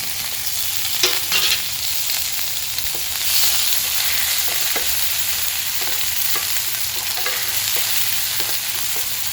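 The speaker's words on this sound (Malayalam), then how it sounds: "ഇനി ചതച്ച് വെച്ച ഇഞ്ചി, വെളുത്തുള്ളി, പച്ചമുളക് ചേർത്ത് കൊടുക്കാം." Crushed ginger, garlic and green chili frying in a pan with curry leaves for a chicken stir-fry, a dense steady sizzle up close with faint scraping taps of stirring throughout.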